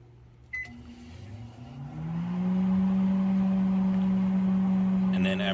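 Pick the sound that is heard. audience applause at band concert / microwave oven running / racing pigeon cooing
microwave oven running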